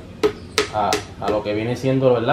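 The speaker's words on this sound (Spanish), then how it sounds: "vamos a coger con el martillito, que es con el que vamos a estar bregando" A small hammer taps an engine piston to seat it flush with the block: several sharp, separate knocks spaced unevenly, mixed in with someone talking close by.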